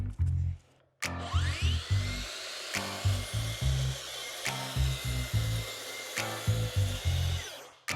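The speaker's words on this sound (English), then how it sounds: "I'm about to use the track saw to cut this." Track saw cutting wood in a DIY tiny house kitchen build, a close power-tool whine with a pulsing, choppy low motor hum and sharp clicks between stretches.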